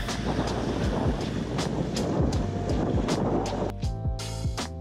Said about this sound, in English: So we're just about to get on the boat here.